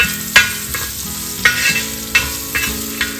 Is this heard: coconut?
yes